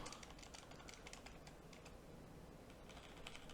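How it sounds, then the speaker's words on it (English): Rapid clicking keystrokes on a computer keyboard, typing colons in a steady near burst with brief pauses, quiet and without talk. "And these are colons, what I'm typing right now."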